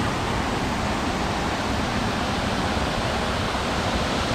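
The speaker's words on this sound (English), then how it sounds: "A beautiful waterfall." A waterfall on a Washington hiking trail roars in a steady, dense rush of falling water, loud and close, with no voices over it.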